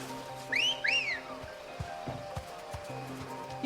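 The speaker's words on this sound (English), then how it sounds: "You wolf whistling your chocobo?" Two quick rising-falling wolf whistles call a chocobo in Final Fantasy XVI, bright and clear over a low game soundtrack hum, followed by soft thuds of footsteps.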